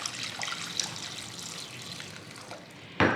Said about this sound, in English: I'm just going to fill this with water and let it simmer until our cauliflower is ready.